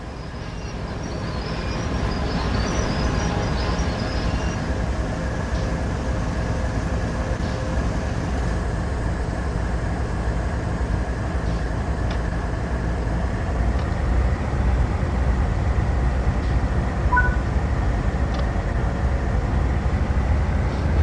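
A BNSF ES44C4 diesel locomotive in Train Sim World 3 rolls slowly toward a coupling, a steady low engine drone and rail rumble that fades in and then holds, with faint high brake tones.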